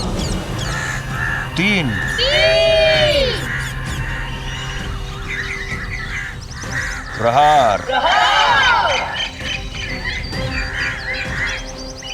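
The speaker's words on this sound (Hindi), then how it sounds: "ये अचानक से सारे पक्षी क्रंथन करते हुए अयोध्या की ओर क्यों जा रहे हैं?" A flock of crows caws and cries loudly in several bursts, with harsh calls rising and falling, over a steady low drone and a voice counting and speaking.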